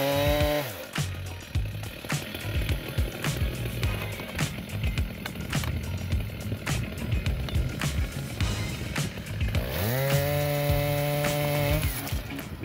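A Stihl 90 chainsaw cuts through a giant tree trunk, its engine revving up at the start, holding a rough, loaded buzz through the cut, then revving high again near the end.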